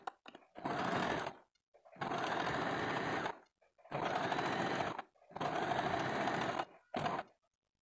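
A sewing machine stitches the back tucks of a blouse in four long runs and one short final burst, separated by brief pauses, loud and close, with no talking.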